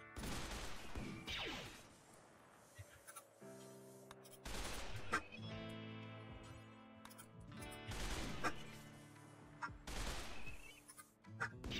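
Ion rifle fire in modded RimWorld comes in a few sharp, clustered bursts of shots spread across the stretch, with sustained tonal whines and hums ringing between them at moderate loudness.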